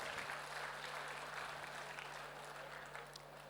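Sustained audience applause at an annual company meet in Kochi, a dense steady wash of clapping from a large crowd lasting the whole stretch, with a faint electrical hum beneath and no clear talk over it.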